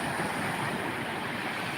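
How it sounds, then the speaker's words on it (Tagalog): Big ocean waves and surf at Barangay Calayo, a continuous close roar of churning water mixed with wind buffeting the microphone, with no voices. "Grabe na laki ng alon, no?"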